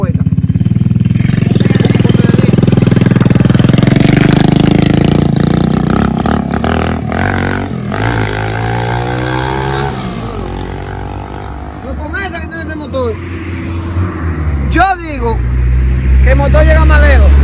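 A small motorcycle engine runs close by, loud and steady, then revs and pulls away with rising engine pitch, while people talk over it throughout.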